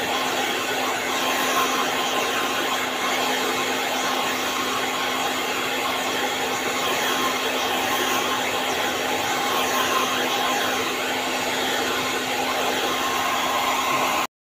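A blow dryer runs steadily close by while drying a woman's freshly rinsed hair at a salon, giving a continuous loud airy whoosh with a fixed motor hum and no pauses.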